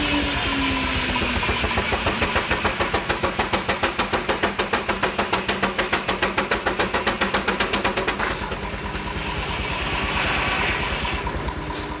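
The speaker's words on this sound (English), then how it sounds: "You can hear the sharp exhaust of the engine come alive as it takes up the load." Sawmill engine under load as the saw cuts wood, giving a sharp, fast, regular exhaust beat that pounds evenly for several seconds, then drops back to a softer steady running note with a rising whine near the end.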